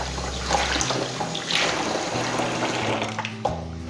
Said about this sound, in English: I wash my hands in cold water